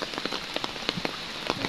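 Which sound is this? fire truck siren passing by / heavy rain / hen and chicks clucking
heavy rain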